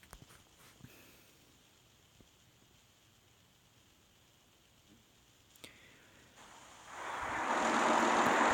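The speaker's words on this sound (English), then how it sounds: "that's just the wind right there" Outdoor wind, faint and steady at first, then swelling into a louder rushing gust over the last couple of seconds, with no talking.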